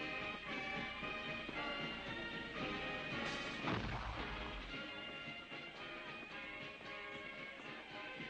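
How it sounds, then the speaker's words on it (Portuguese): Fireworks display explosions at a Fourth of July celebration in New England, heard as a dense, continuous rumbling roar with a heavy boom near the middle, loud and sustained throughout with no voices. "o ponto alto das festividades do dia era uma exibição de ativos fogos de artifício"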